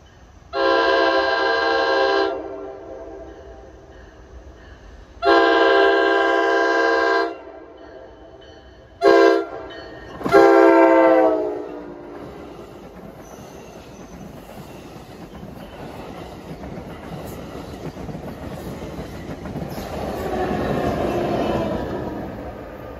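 An NJ Transit locomotive sounds two long, loud horn blasts, then two short ones. The train passes close by with a rumble and wheel noise that swells toward the end, with no talking.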